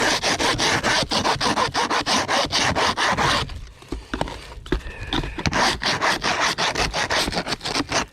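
A wooden spatula with a sharp edge scrapes a plastic-foundation beehive brood frame in fast, rhythmic rasping strokes, close and loud, with a short pause of lighter scratches midway before the steady scraping resumes.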